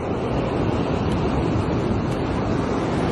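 Ocean waves rolling onto a beach on a bright day, a steady broadband wash of surf with wind buffeting the microphone, loud and continuous with no voices.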